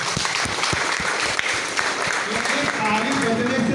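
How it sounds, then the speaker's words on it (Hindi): An audience at a meeting in Ramanujganj claps together, a dense, steady patter of applause with a voice speaking over it. "एक बार अपने लिए ताली बजाएं।"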